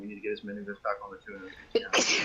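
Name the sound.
a person sneezing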